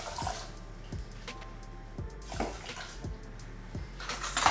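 Water pouring into a pot holding a cup of quinoa, a continuous splashing, gurgling stream close by with a few louder surges.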